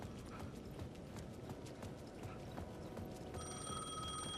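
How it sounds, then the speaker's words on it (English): In the video game Alan Wake 2, a payphone at the edge of a plaza rings over a steady, noisy ambient bed. A bright ringing tone comes in clearly near the end. "The payphone at the edge of the plaza was ringing again."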